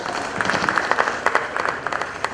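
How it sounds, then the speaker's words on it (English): An audience at an anti-money laundering course launch breaks into a burst of applause, a dense patter of many hands clapping in a room, moderately loud and continuous. "let's give them a huge applause as they go back to their."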